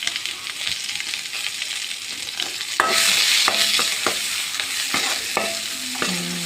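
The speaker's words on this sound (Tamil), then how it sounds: "பெரிய வெங்காயத்தை எடுத்து போடுங்க. போட்டு நல்லா வதங்கட்டும்." Sliced big onions sauté in a pan for a jackfruit seed curry, a steady sizzle running throughout with repeated scraping stirs of a spoon against the pan, fairly close, no talking.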